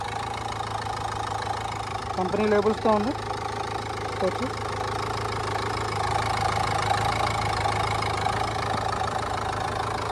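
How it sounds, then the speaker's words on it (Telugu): A 2019 Renault Duster RXS automatic 110 PS diesel idles with a steady, smooth low rumble, with someone talking briefly over it near the start. "ఇంజన్ కూడా చాలా స్మూత్ ఉంది సార్"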